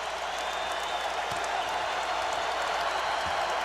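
A basketball arena crowd roars and cheers in a dense, continuous wash of noise that holds steady throughout.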